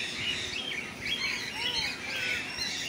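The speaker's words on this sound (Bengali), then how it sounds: "পাখিদের কিচিরমিচির উপভোগ করার জন্য।" Cockatiels chirp in a zoo aviary, their bright overlapping tweets and short calls rising and falling over a soft background hum, moderately close and steady throughout.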